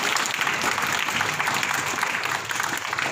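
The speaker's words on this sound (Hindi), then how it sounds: "एक बार जादव मैडम के लिए जोरदार तालियों से उनका स्वागत करेंगे" Steady audience applause greets a female guest at a school gathering. Dense, even clapping holds at a constant loudness for the full few seconds, with no voices over it.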